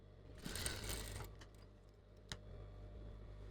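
A sewing machine stitches the shoulder seam of a home-made dress in a steady whirring run, followed by a few soft clicks and a sharp tick as it stops; close and fairly quiet, with no talking.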